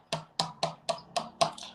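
A plastic drinking cup tapped six times in a steady rhythm, each sharp, close knock ringing briefly with no voices around it.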